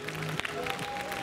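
Brief crowd applause at a Gym For Life gymnastics festival, clapping for a children's team and their parents, steady and moderately distant.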